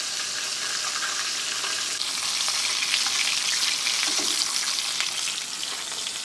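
Chicharrone-style chicken pieces frying in hot oil make a steady, close, crackling sizzle that holds at an even level throughout, with no speech.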